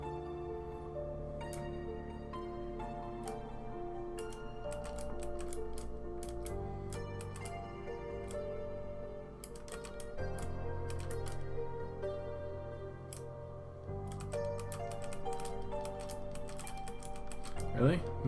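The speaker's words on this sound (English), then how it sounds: "will use the keyboard instead of the mouse" Computer keyboard keys clicking in quick, irregular bursts of taps, sitting over a steady layer of tonal background music at moderate level.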